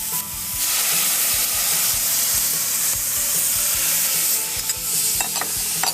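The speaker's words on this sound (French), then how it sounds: "on va déglacer le tout avec un petit verre de pastis" A hot pan deglazed with a glass of pastis gives a loud, steady sizzle and hiss that runs unbroken throughout, with faint stirring scrapes underneath and no talking.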